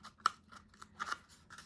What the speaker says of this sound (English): I'm going to go right at the bottom and I'm going to cut again.